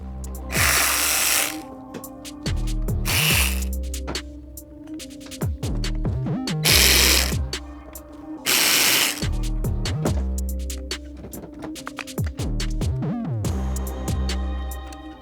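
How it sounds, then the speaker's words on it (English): Fender bolts coming out of a 2022+ Suzuki GSX-S1000 motorcycle with a power tool, heard as several loud, whirring bursts of a few seconds each, separated by short pauses and backed by music. "as we begin removing these bolts, we do want to support the fender"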